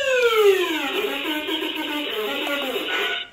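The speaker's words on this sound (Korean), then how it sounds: "요거를 누르게 되면, 그, 원격지에 있는, 현장으로 이제, 그 사이렌 경고 방송을 내보낼 수가 있습니다" A siren warning broadcast sent out from an EMSTONE Audio Desk to a remote site, with a loud, falling then wavering electronic tone that holds steady for about three seconds and then cuts off.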